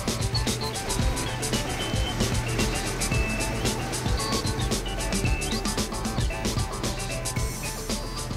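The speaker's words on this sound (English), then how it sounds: "There goes another one of the 150 lorries that will be in and out of this arena today." A dirt-hauling lorry drives through an indoor arena being prepared for an event, a rumbling engine with clattering mechanical noise and beeping tones, steady and fairly close.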